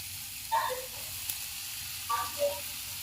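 Spice paste frying in a pan for a drumstick curry, giving a faint, steady sizzle with two brief, slightly louder bursts of stirring.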